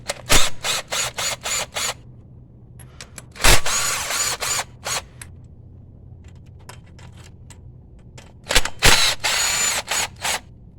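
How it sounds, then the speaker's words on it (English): A small cordless impact wrench with a 10 mm socket rattles in a burst of rapid hammering, falls quiet, gives a single short blast, then fires again in several close, loud bursts on a car part, with light clicks between them. "I got my 10 with my little impact."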